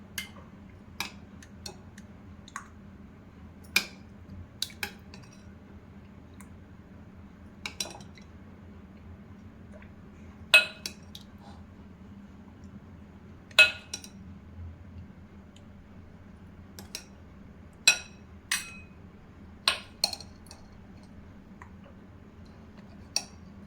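Small bowls clink and tap one after another as they are filled with a curd mixture, giving sharp, scattered clicks over a quiet background hum.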